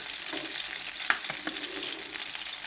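Butter sizzles and browns in a hot pan before eggs go in. A dense, steady frying hiss runs throughout, broken by occasional soft pops and a sharper tap near the middle, with no voices.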